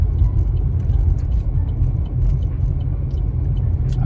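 Steady low road rumble of a car driving along a road, heard from inside the cabin, continuous and fairly loud with faint scraping and rattling on top, no talking.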